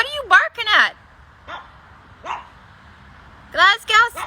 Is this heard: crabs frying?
no